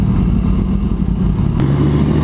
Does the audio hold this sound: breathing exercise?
no